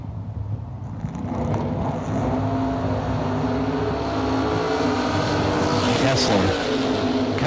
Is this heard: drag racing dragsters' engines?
yes